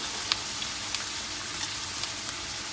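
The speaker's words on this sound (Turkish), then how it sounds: "kavruluncaya kadar ara ara karıştıralım." Onions frying in a pan over steady heat as they are browned, giving a soft, continuous sizzle with faint scattered crackles and light stirring, fairly quiet and with no voices.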